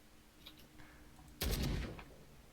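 A single loud gunshot burst from a pistol in the Call of Cthulhu video game, sharp and broadband with a brief decaying tail after a quiet lead-in.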